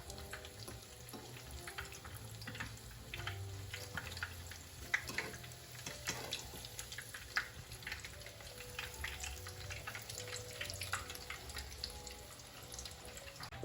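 Chayote slices fry in oil in a pan for a Honduran vegetarian dish, giving a soft, steady sizzle and crackle that runs unbroken throughout, fairly quiet and heard alone without speech.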